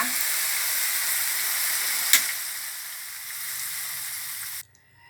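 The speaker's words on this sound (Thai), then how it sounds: "เปิดไฟแรงค่ะ ผัดทุกอย่างให้เข้ากัน" Climbing perch with chili stir-fried on high heat in a pan, a steady loud sizzle filling the clip with one sharp scrape of the utensil midway, then cutting off abruptly near the end.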